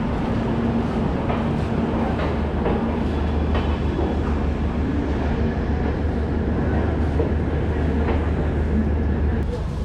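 The Lichchavi Express rolls along the rails with a dense, steady rumble and faint rhythmic clatter, heard from inside the train. The noise stays loud and continuous throughout.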